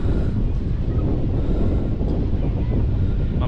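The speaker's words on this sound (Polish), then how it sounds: "Wiatr wieje" Wind at an outdoor bungee jump site in Poznań, buffeting hard against the microphone as a loud, steady low roar that lasts the whole stretch.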